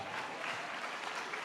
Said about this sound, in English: I don't get a round of applause for that?